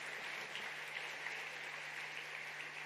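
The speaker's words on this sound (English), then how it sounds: "A bigger round of applause, please," Steady, faint applause from the audience fills a plenary session hall at KICC in Nairobi, an even wash of clapping with a low hum underneath.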